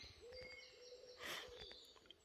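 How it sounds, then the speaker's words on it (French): A common wood pigeon coos softly in the distance during a June woodland walk for porcini mushrooms, its low hooting notes faint beneath a hiss of outdoor ambience and rustling. "on entend le pigeon ramier en train de roucouler"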